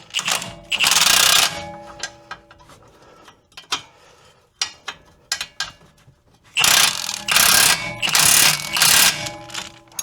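An impact wrench with a 22 mm socket hammers on the nut of a 2005 Toyota Camry strut bolt. One loud rattling burst comes near the start, then quieter clicks and taps, then two long, close, hammering bursts.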